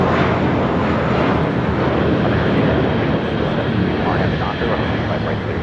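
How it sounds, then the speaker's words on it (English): JetBlue airliner taking off from LAX bound for Boston, a loud, dense, rumbling jet roar filling the whole stretch, with people talking over it. "taking off to Boston. It's JetBlue, 1388."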